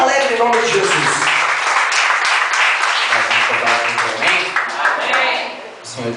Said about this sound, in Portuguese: Vamos receber com as palmas bem alegres em nome de Jesus.